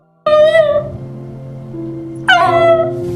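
A dog gives two loud, close, high whimpering cries, each falling in pitch, with a quieter whine between them.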